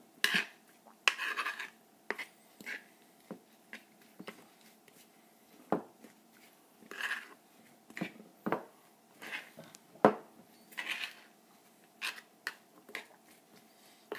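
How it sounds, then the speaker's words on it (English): Food in a pot being stirred, with scattered clinks and scrapes of a utensil against metal, quiet and close, in irregular bursts. "Give this a stir."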